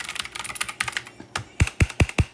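Black Shark gaming keyboard keys clacking in a quick run of light taps, then four loud, hard, evenly spaced strikes close up.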